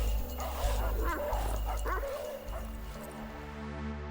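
Dogs yip, bark and whimper in a clash with dire wolves, mixed into a dense, droning soundscape with a low rumble underneath, the noise fading toward the end.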